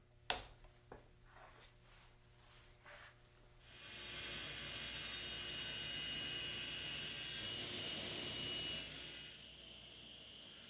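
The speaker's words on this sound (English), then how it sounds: "going to be cutting our second miter on the opposing side of the jig" A saw cuts a walnut miter on a jig. A few light knocks come first, then a loud, steady whine of the running blade starts and holds for several seconds before easing slightly.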